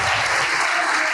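A church congregation applauding in worship, a dense, loud, sustained roar of clapping filling the whole moment.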